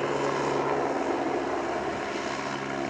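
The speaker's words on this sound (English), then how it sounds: "Not with a helicopter." An Agusta A109 helicopter takes off at an airshow, its engine and rotor making a steady, loud, broad roar that holds constant throughout.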